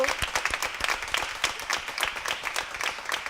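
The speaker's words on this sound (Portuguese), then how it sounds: "Os aplausos para essa menina linda." Audience applause on a Portuguese-language television show, with distinct individual claps close by forming an uneven, moderately loud patter for a few seconds.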